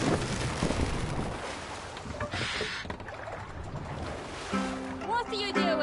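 Oars pulling a boat through water in Assassin's Creed Valhalla, with splashing strokes, waves and wind rushing over a steady backdrop, game music and voices talking over it toward the end.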